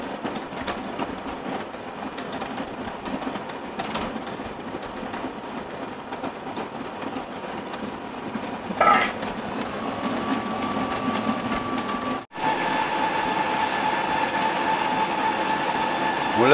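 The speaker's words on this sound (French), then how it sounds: "un batteur électrique comme ça, manuel, électrique" Electric hand mixer whirring steadily through butter cream, a continuous mechanical drone with a brief break and a slightly brighter, louder tone afterward, no talk.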